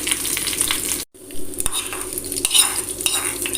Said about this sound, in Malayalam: അതിലേക്ക് ഒരു തണ്ട് കറിവേപ്പില ഇട്ട് കൊടുക്കാം ഇനി നമ്മളിത് തൈരിലേക്ക് ഒഴിച്ചു കൊടുക്കാം